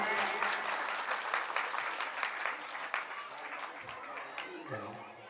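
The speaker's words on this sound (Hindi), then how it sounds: "एक बार जोरदार ताली बजाएं" Loud applause from an audience at a Shree Mad Bhagvat Katha religious gathering, dense steady clapping that runs throughout, with a voice speaking briefly near the end.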